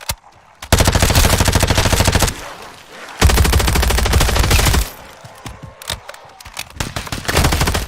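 Video game machine gun fire rips out in long, rapid automatic bursts, loud and close, with brief pauses between strings of shots and scattered single cracks near the end.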